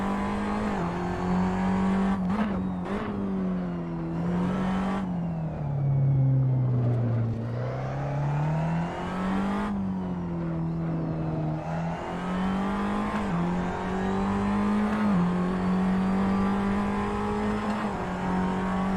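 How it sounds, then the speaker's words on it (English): Tatuus single-seater race car lapping the Magione circuit, engine droning loud and close as the pitch climbs through the gears, drops sharply under braking and rises again, with no talk. "The car is very loud"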